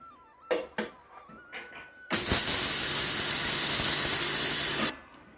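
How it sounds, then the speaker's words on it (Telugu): An electric mixer grinder grinds urad dal in a loud, continuous, hissing whir lasting about three seconds, preceded by a few short clinks and handling knocks. "వీటిని మిక్సీ పట్టేసుకుందాం అండి"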